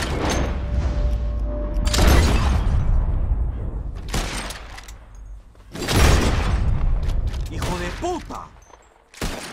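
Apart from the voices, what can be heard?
gunshots shattering bottles in video game Red Dead Redemption 2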